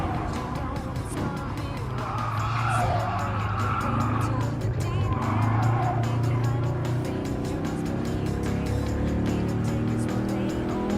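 In Gran Turismo Sport, an RCC Fiat Abarth 500 race car drones along with a continuous engine note and intermittent tire squeal, loud and close throughout.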